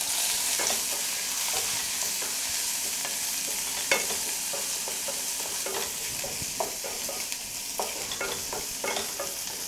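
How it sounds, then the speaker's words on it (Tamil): Broken dried red chillies fry in a pan with a constant close sizzle, broken by a run of sharp scraping clicks from a spoon stirring them, no talking. "கிள்ளின காஞ்ச மிளகாய் போட்டு இது நல்லா வதக்கிடலாம்."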